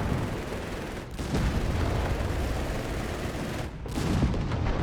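In a Company of Heroes 3 battle, a Panther tank engages a Sherman amid dense, continuous gunfire and booming cannon blasts, with a heavy, rumbling wall of battle noise and no voices.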